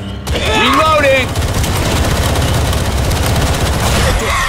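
Rapid gunfire in Left 4 Dead 2, a dense continuous fusillade of loud shots with voices talking over the first second, the shooting rattling on steadily throughout.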